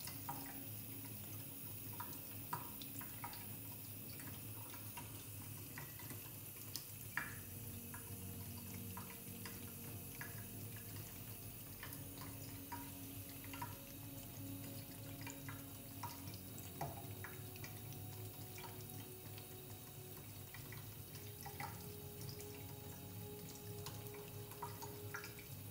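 Water runs steadily from a household faucet into a sink, a soft continuous splashing stream with faint drips, heard alone and fairly quietly throughout.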